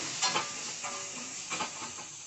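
Tomato, dried prawn and egg curry base fries in a pan just after salt goes in, a soft, even sizzling hiss with a few faint stirring scrapes.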